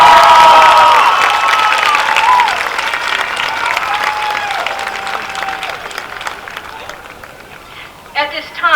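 Loud applause and cheering from a crowd at a high school commencement ceremony, sustained clapping that gradually fades while a few voices and whistles carry over it.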